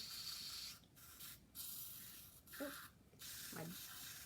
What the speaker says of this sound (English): so I'm going to just spray it right into